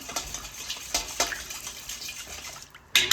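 Water poured into a large bowl, a short, faint splashing and trickling that ends with a louder gush.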